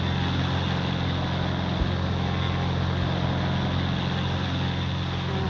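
A plane in the Roblox flight game PTFS descends toward runway 02 to land, its engine giving a steady, continuous drone with a low hum throughout, no talk over it.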